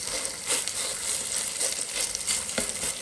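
Pumpkin cakes frying in lard in a pan over low heat give a steady, close sizzle and crackle with soft bursts of spatter throughout, with no talking.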